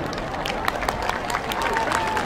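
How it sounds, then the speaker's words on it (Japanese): A stadium crowd claps after a fireworks show at Toyota Stadium, a dense, steady patter of applause heard from a distance, with a voice talking faintly underneath. "大きな拍手を"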